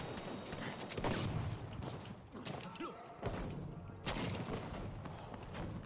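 A tank takes a glancing hit in Battlefield V amid muffled battle noise, with several heavy thuds and cracking impacts spread across the stretch, and a voice talks over it now and then.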